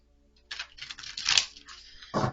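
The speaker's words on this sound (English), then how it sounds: "So I'm going to shuffle the cards again" Tarot cards being shuffled by hand, a soft papery riffle and slide of cards in bursts over about two seconds, close and quiet, ending with a brief sharper flutter.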